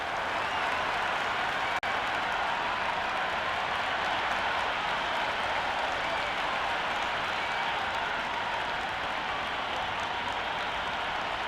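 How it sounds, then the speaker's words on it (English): A large crowd roars and applauds continuously as a dense, steady wash of noise, with a commentator's voice in the mix, in the cricket video game Cricket 26 before the first ball is bowled. "The crowd are making a heck of a lot of noise even before the first ball's been bowled"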